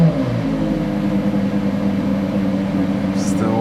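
A race car engine in the Porsche Museum workshop idles and revs steadily with a low, continuous rumble, fairly loud and close, without much change in pitch.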